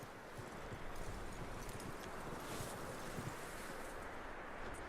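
Steady hoofbeats of a horse in the video game Red Dead Redemption 2 clip-clop continuously under a breezy wind-like wash, fairly faint and even throughout.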